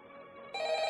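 A telephone rings inside the VRChat horror map Purify, a bright electronic ring bursting in halfway through over a quieter tonal hum, close and steady with no talking.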